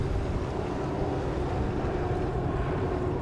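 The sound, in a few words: XCAT racing powerboat engines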